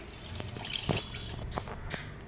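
Soft water drips and small trickles fall at irregular intervals from strained jowar semolina, quiet and close, with a faint background hiss.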